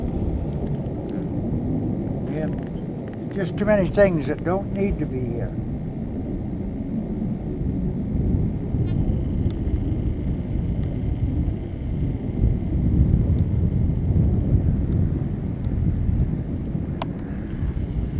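Airplanes fly over near an airfield, a loud, broad rumbling roar with wind buffeting the microphone, swelling and lingering throughout while someone talks over it.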